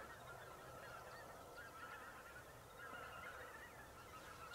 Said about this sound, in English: Speckle bellies are going crazy.